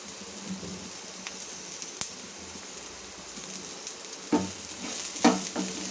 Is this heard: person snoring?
no